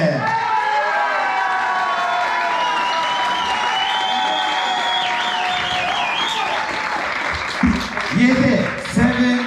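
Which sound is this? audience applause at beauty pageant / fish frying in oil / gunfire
audience applause at beauty pageant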